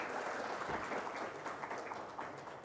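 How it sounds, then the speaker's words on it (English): Audience round of applause after a conference session on green technology and industry, a faint, distant wash of clapping that holds steady and slowly tapers off. "We would like the audience to give a round of applause,"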